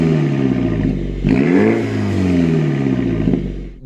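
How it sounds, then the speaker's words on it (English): A 2017 Mini Cooper S John Cooper Works with its exhaust valves opened revs loudly and close by, climbing in pitch around the middle blip before settling into a throaty idle, with no talking. "it opens up the exhaust ports and it makes the exhaust incredibly violent and very loud."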